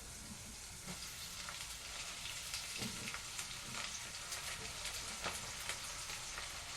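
Spinach sizzling in a frying pan with turmeric, a loud, steady, crackling hiss that runs throughout with small pops and stirring noises.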